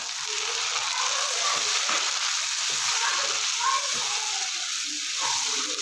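Chopped tomatoes frying in a hot garam masala base for Peshawari chicken charsi karahi: a loud, dense, continuous sizzle close to the pan, steady throughout with faint stirring underneath.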